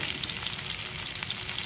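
Sausages frying in a pan for breakfast give a steady, dense sizzle throughout, close and even, with no voices.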